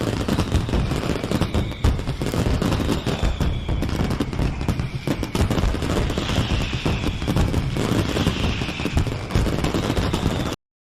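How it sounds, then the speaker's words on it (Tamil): New Year firecrackers in a cartoon burst in dense, continuous crackling volleys of rapid pops and bangs, loud and sustained for about ten seconds before cutting off abruptly. "புது வருஷம் பிறந்த உடனே குக்குவும் ஜாக்குவும் அங்க வாங்கி வச்சிருந்த வெடிகளை வெடிக்க ஆரம்பிச்சாங்க."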